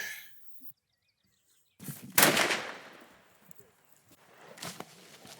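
A single loud rifle shot during a hunt for a tuskless elephant in Nyakasanga cracks out after a brief quiet, then rolls away in a fading outdoor echo with faint rustling afterward.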